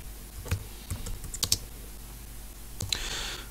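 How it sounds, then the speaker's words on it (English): A computer keyboard clicks under quick, irregular keystrokes, a short run of close taps followed by a pause and a final burst of typing, with no voices. "I'm going to type the name of the company"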